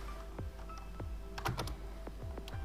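Python code typed on a computer keyboard: quiet, irregular keystrokes, single clicks spaced apart with a short quick flurry in the middle, and no talking.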